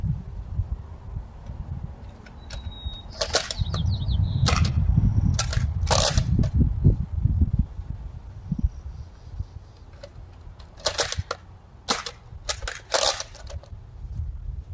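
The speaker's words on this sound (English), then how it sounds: "Alright, take a look at the barrel break." An old Nerf Barrel Break shotgun being fired on a range, sharp snapping shots in short clusters with mechanical clacks, over a low rumbling background.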